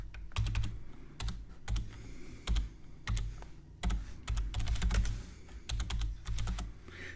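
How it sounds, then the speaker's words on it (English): Rapid keystrokes on a computer keyboard, with short bursts of typing and brief pauses, heard close up and on their own with no talk. "we can just type all this out here"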